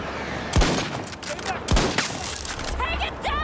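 Sniper fire in a video game rings out as two sharp, loud shots about a second apart, with a scrappy burst of further gunfire and a voice talking over it.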